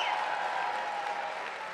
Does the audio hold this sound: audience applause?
yes